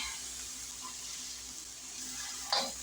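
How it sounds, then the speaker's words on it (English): Quiet, steady sizzling of burger patties frying in a pan, with a faint scrape of a spatula near the end. "Rolled into large meatballs and flattened with the spatula in the frying pan."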